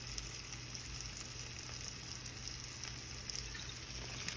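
Meat sauce for baked ziti pasta sizzles steadily in a pot after red wine is poured in, a soft, even frying hiss with faint bubbling, fairly quiet and without talk.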